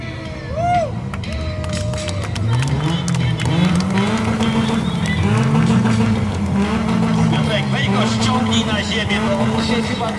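Stunt car driven on two wheels at an outdoor stunt show, its engine rising and falling in repeated revving sweeps, loud and close, while an announcer talks over it and a crowd murmurs in the background.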